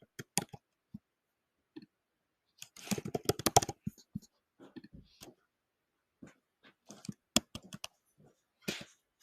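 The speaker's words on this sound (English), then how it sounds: "then I'll type the answers that I want students to sort into each individual category" Quiz answers are typed on a computer keyboard in scattered, quick bursts of clicking keys, close and fairly faint, with pauses between runs.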